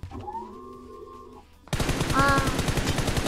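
Rapid automatic gunfire from the mobile battle-royale game PUBG Mobile bursts in loud and continuous after a quieter stretch of tonal game sound, firing in a fast steady rhythm to the end.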